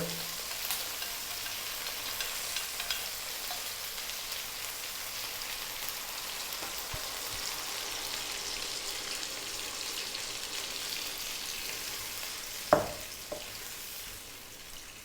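Coconut milk hitting hot oil in a pan after chicken has been cooking, a steady quiet sizzle and bubbling fry throughout, with a brief sharp clink near the end.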